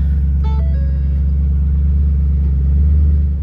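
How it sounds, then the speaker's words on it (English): A 2010 Ford Mustang GT running just after start-up, a loud, deep, steady engine rumble heard up close, with a brief higher tone over it early on. "we'll go and fire this thing up and see how it sounds like"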